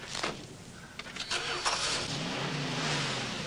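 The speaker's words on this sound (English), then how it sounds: "Just listen to that engine." A car engine, heard in a 1986 wrestling film, revs up loudly after a few sharp starter-like bursts, then holds a steady rough roar.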